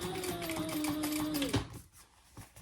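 A sewing machine top-stitches the front slip pocket of a small crossbody phone bag, a steady close whirring run for about a second and a half that stops abruptly, followed by quieter handling noise.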